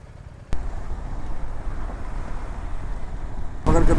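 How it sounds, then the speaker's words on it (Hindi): Highway traffic backed up at a barricade near Alipurduar in West Bengal rumbles with a steady low engine and road noise, broken by sudden louder bursts as vehicles pass close by, with no speech. "ट्रैफिक, हाईवे रोक देने वाला ट्रैफिक।"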